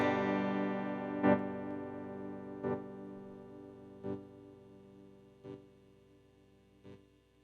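An electric guitar chord sustains through a harmonic tremolo pedal set to a square wave at high depth, producing a pulsing on-off chop roughly every second and a half while the chord slowly fades, with no voices.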